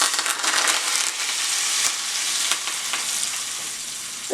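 Hot mustard seed tempering hits a Kerala-style pumpkin curry and sizzles loudly at first, then settles into a steady frying hiss with a few sharp crackles and pops.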